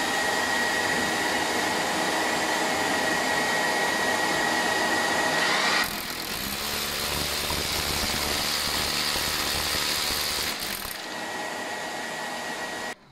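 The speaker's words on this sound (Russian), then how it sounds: "Итак, активируем пылесос и поехали." A loud construction vacuum cleaner extracting fine cement dust runs steadily throughout, its droning motor shifting to a rougher, heavier roar midway as it works, then easing back.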